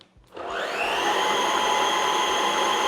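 Dyson Wash G1 wet-dry mop switched on at setting 1, its motor spinning up within half a second into a steady, high-pitched whirring drone that holds for nearly three seconds, close by with no talking.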